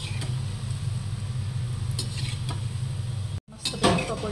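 Pakodas frying in hot oil are flipped over with a utensil. Under a steady low hum, several metallic clanks and scrapes against the pan come and go, followed by a brief louder clatter.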